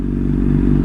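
Honda CBR600RR motorcycle on a ride, a steady low engine drone with a constant rumble throughout, loud and close, no voices.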